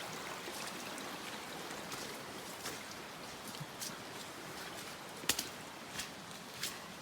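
Flowing water on the Appalachian Trail as a hiker wades through a deep stream, a steady rushing wash with a few close splashes and knocks.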